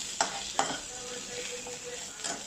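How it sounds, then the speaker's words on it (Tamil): Tamarind, tomatoes, garlic cloves and green chilies sauté in a pan for drumstick-leaf chutney, a soft sizzle running underneath three distinct scrapes of a spatula against the metal, no voices. "6 பல்லு பூண்டு இதையும் போட்டு நல்லா வதக்கணும்."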